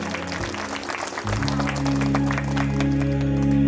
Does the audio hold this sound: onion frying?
no